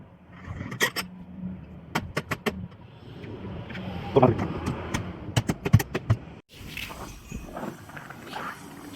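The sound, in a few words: mortar delivery truck arriving, pouring and leaving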